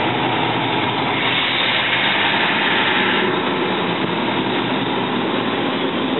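A 1998 Ingersoll-Rand 825 CFM portable air compressor engine idles while holding pressure, a loud, steady, close diesel drone with no change throughout.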